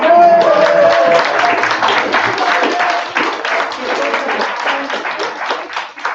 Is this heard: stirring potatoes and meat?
no